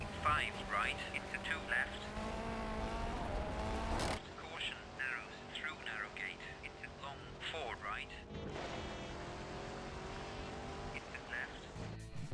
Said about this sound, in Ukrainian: Нормальний звук машини, також відчуваються звуки каміння, яке відбивається від коліса